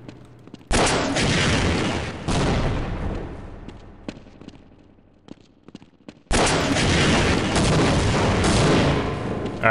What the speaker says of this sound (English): He's returning fire!